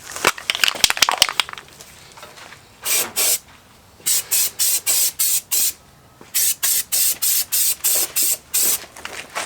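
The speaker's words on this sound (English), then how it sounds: "this is just some Rust-Oleum undercoating spray stuff, rubberized undercoating" Rust-Oleum rubberized undercoating aerosol can hissing in short bursts: a quick rattle of brief puffs, then a series of regular one-second sprays with pauses between.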